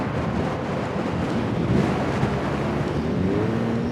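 Steady, loud wind rumbling and buffeting against the microphone while riding an e-bike in Chicago, a continuous low roar with no voices.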